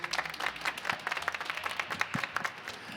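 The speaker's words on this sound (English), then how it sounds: "Howard, can we give this wonderful audience a round of applause?" An audience at a Library of Congress investiture ceremony claps in a fairly sparse, uneven patter, with individual claps audible in a moderate-sized room.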